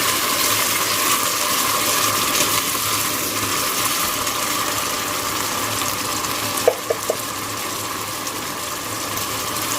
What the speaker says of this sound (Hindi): उसके बाद इसमें हम पानी ऐड कर देंगे।